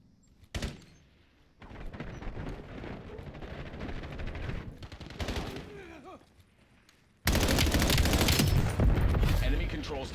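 Gunfire in the video game Black Ops 7, with bursts of shots crackling through a busy match, then a loud dense stretch of continuous firing near the end; speech is present alongside.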